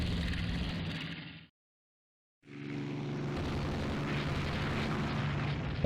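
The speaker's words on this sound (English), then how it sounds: "More torpedo hits on the Tsukuba." Heavy explosion rumble from torpedoes striking the warship Tsukuba in the naval strategy game Rule the Waves 2, a loud low roar that drops into brief silence and then swells back as a sustained booming wash.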